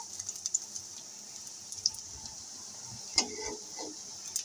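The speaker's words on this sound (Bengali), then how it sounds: "দেখো একটুখানি পানির ছিটা পড়েছে তেলের উপর হ্যাঁ কি চিটপিট করে উঠছে" Splashes of water spitting in hot frying oil, faint steady hiss broken by scattered sharp pops and crackles, one louder burst near the end, no talking.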